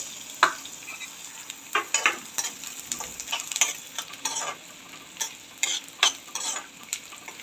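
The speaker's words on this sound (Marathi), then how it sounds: "अशा प्रकारे मी सर्व डिंक तळून घेते" Soft frying sizzle of edible gum in a pan, broken by repeated scraping and clinking strokes of a spoon stirring at an uneven pace.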